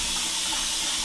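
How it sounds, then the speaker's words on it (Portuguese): Water runs steadily into a tank during a half-tank water change, a constant hissing splash heard close up with nothing else over it. "Estamos fazendo a operação de troca de água"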